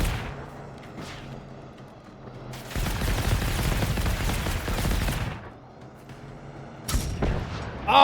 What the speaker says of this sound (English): He's shooting back.